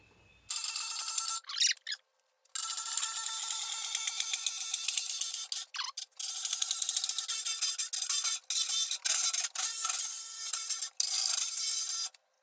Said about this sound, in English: a jigsaw cutting metal